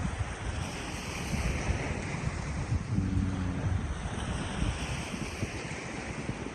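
Waves washing onto a long sandy beach with murky water, a steady soft roar of surf mixed with wind buffeting the microphone, continuous and moderately distant.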